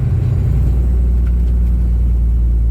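A 2007 Kenworth W900 truck with an 18-speed transmission, its engine giving a loud, steady low rumble from inside the cab while driving, settling a little after a brief surge at the start.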